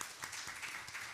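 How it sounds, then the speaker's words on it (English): Audience applause at a talk on interfaith collaboration against extremism in Africa, a steady dense wash of many hands clapping in a hall, fairly faint and continuous for about a second with no voices. "You receive applause."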